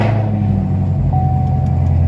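A Chevrolet SS cruises along with a steady, low engine rumble and road drone heard from inside the cabin, continuous and fairly loud with no speech.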